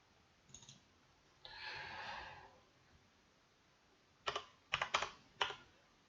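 Quiet keyboard typing at a computer while working in Photoshop: a few soft clicks, a short breathy rustle, then a cluster of four or five crisp key presses near the end, close and alone with no voices.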